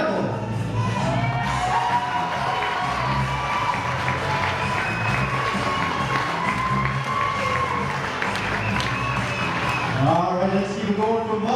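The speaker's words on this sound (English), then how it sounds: "All right, folks, a big round of applause." Wedding guests clap, cheer and whoop as the mother of the groom is escorted in; a loud, lively crowd with shouts and high children's voices rising over continuous applause, and an announcer's voice briefly heard.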